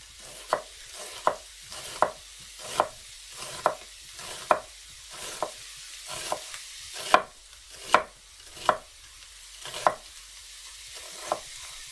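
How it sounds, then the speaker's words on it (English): An onion being sliced thin with a knife on a cutting board, a steady run of about fifteen crisp chops at an even pace, close and clear with no talk. "We're gonna slice the onion"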